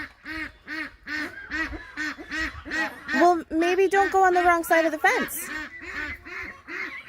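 Farm ducks quack in a rapid, steady series of loud nearby calls, rising into a busier overlapping chorus midway before thinning out again, while a person speaks briefly over them.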